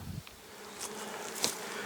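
Honeybees buzzing around a hive during rapeseed bloom, a steady soft insect hum that stays faint and continuous, with a few brief louder passes as individual bees fly close.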